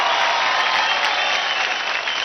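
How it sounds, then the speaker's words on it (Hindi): An audience on a televised Indian dance competition show claps loudly and continuously, dense applause filling the whole moment with no talk over it. "शिवांगी के लिए जोरदार तालियां।"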